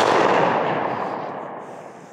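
A single shot from an antique .577 Snider carbine firing 130-year-old ammunition, outdoors: one loud blast with a broad rush of noise that slowly fades out over about two seconds.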